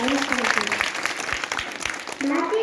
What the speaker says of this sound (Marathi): या कार्यक्रमास दाद देण्यासाठी आपल्या टाळ्यांचा आवाज पाहिजे.